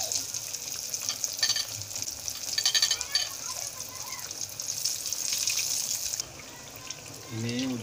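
Battered eggplant slices fry in hot oil over medium heat, giving a steady hiss and crackle with a few soft stirring scrapes, close by. A brief voice is heard near the end.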